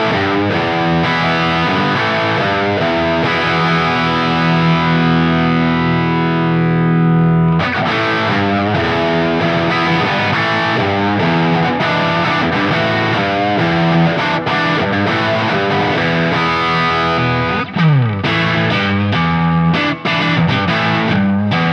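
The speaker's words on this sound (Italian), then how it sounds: "andiamo su un suono crunch" PRS Custom 24 SE semi-hollow guitar played with a crunch distorted tone, loud sustained chords and riffs ringing continuously with a brief choke near the end, no talking.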